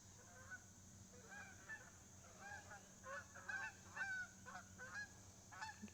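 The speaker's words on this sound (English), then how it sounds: "Got some geese going by." Several geese honk repeatedly at a distance as they fly past outdoors in Greeneville, Tennessee, calls coming in uneven bursts over a steady background hum.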